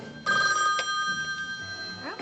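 A telephone in a room rings with a bright, sustained electronic bell tone that cuts in loudly, then fades as a voice speaks briefly near the end.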